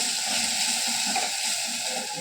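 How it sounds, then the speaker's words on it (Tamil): An egg frying in a pan with onion and tomato, a steady close hiss and sizzle of hot oil that holds evenly throughout with no talk. "அதனால் ஒரு முட்டை போடுறேன்"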